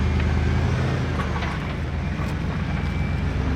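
A Porsche climbing a rocky jeep trail on Engineer Pass, Colorado, with a steady, loud, low engine drone close by and faint crunching of rocks under the tyres, no voices.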